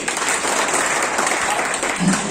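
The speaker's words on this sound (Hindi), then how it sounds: "इनके नाम पर एक जोरदार ताली लगनी चाहिए।" Brief burst of dense audience clapping at a political meeting in Bhagalpur, loud and close, filling the short stretch without talk.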